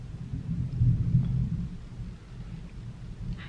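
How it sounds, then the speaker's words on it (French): Thunder rumbles low and steady during a heavy downpour outside, a deep rolling roar swelling near the start and easing off, with no talk over it. "Vous devez peut-être entendre de l'orage"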